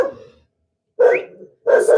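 A dog barks loudly and close by, three short, sharp barks with brief silent gaps between them.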